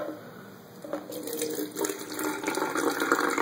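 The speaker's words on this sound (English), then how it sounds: "I take this bottle. I take my mixture. And I pour into it until I'm up at this level." Liquid mixture of Metamucil poured into a bottle, a steady close splashing pour that builds and thickens over a few seconds with no talk.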